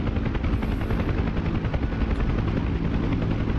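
A Huey helicopter in the DCS flight simulator flies with a steady, loud rotor thump and turbine whine, continuous and close, with a brief faint high tone near the start.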